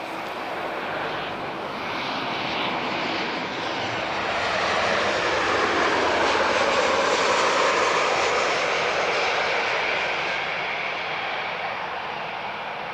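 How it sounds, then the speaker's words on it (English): Airbus A330 with CF6 engines passing at Lisbon Airport: a steady broadband jet roar that swells toward the middle and eases slightly, loud and continuous with no talk. "I can hear an A330. CF6 engine."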